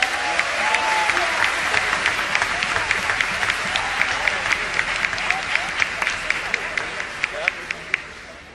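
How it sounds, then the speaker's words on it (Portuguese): Audience applause for a prize winner at a Pixinguinha show, steady dense clapping across the whole stretch with a voice talking over it near the start. "Uma salva de aplausos para ele."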